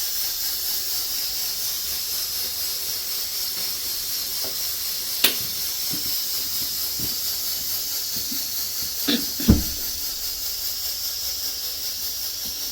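Pressure cooker hissing steadily while carrots cook inside for gajar ka halwa, a continuous broadband steam hiss with a few brief clicks and knocks, no talking.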